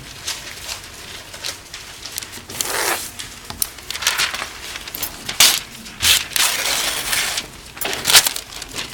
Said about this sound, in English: Go ahead and crease the paper.